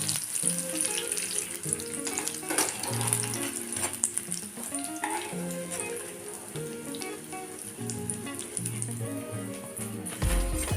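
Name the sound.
pumpkin fritters (kumro bora) frying in oil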